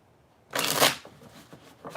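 Tarot cards are riffled together in one loud, close burst, followed by quieter slides and taps as the deck is squared.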